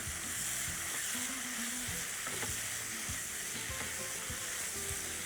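Prawn pickle sautés in a pan with a continuous bright sizzle, while a spoon or spatula stirs it in scattered scrapes and taps close by, no voices.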